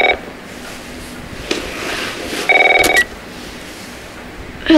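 Telephone dialed in The Last of Us Part 1, with short bursts of keypad tones that sound alone at first and then in a brief loud cluster, followed by a clipped tone at the end.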